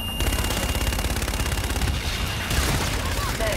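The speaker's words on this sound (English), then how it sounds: "Inbound for gun run. Guns, guns, guns!" Aircraft gun run in a tactical shooter, a continuous rapid rattling burst of heavy gunfire lasting a few seconds, with voices faintly underneath.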